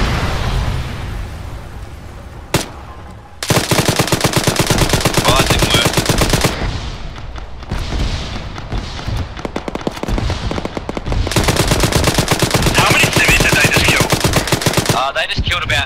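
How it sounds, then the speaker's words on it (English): Arma 3 combat: a sharp explosive detonation followed by sustained, loud machine-gun bursts and rapid gunfire crackling almost continuously, with brief lulls and scattered voices underneath. "Maz, you can probably detonate now, yeah."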